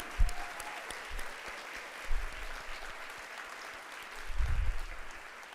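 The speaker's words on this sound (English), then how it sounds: "A big round of applause and jiggles for our talkers this evening." Audience applause for speakers at an evening talks event on menopause, a steady wash of clapping at moderate level with a few louder thumps near the mic.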